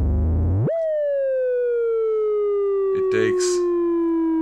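A tone shaped by a homemade vactrol optocoupler, with a potentiometer setting the voltage to its LED. The tone sweeps upward and then glides slowly downward in a smooth, lagging way, and someone speaks briefly over it near the end.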